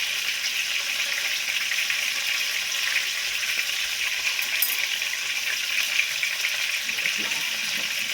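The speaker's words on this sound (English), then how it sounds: "My gravy is coming to boil here." Gravy for Mexican chicken bubbles and sizzles in a pan as it comes to a boil, a steady dense crackle close to the microphone with no talking.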